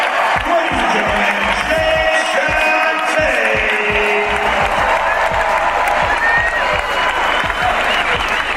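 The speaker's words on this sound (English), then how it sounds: "how about a big round of applause for you" A podcast audience breaks into loud, sustained applause, dense clapping with some cheering that continues for over eight seconds, with a voice heard faintly through it.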